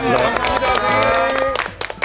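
Studio audience applauding during a Korean broadcast election segment, a dense burst of clapping over music-like tonal background, steady and loud for about two seconds before thinning out.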